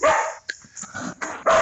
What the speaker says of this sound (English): it's that time of day to listen to the dogs bark because they're eating their dinner